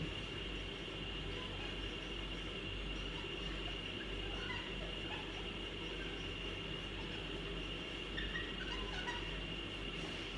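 A train rumbles past, probably in Chachoengsao, Thailand, giving a faint, steady roar of rolling wagons with a high metallic whine on top and no gaps.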